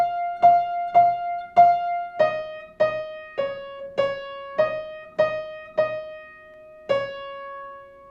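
Slow solo piano phrase, with about a dozen evenly spaced single notes and chords struck clearly and left to ring and decay, close and alone.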